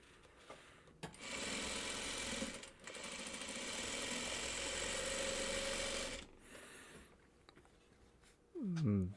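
Sewing machine stitching fabric in two steady whirring runs, the second lasting several seconds, close and even, with brief pauses and a short voice near the end.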